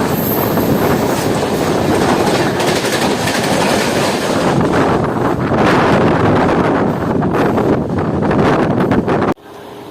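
A MEMU passenger train on the Bardhaman–Asansol line runs loudly with a steady roar and rhythmic wheel clatter, wind buffeting the microphone, before the sound abruptly drops near the end.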